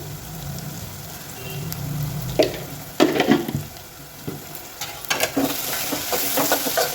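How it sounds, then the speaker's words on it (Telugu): Ginger-garlic paste sizzles and fries in a pan while a spoon stirs it, with scraping clicks and bursts of crackle over a steady hiss. "ఇప్పుడు కొంచెం అల్లం వెల్లుల్లి పేస్ట్ వేసుకోవాలి ఇలా పచ్చివాసన పోయేంత వరకు మంచిగా కలుపుకోవాలండి"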